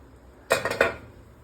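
Lid lifted off a steamer pot of oats idli, a quick cluster of three close metallic clinks and clatters, sharp and bright against a quiet kitchen.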